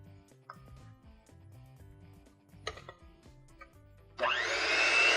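An electric mixer starts up at about four seconds and whirs loudly and steadily while whipping cake batter as flour is added, after a stretch of quieter kitchen clatter.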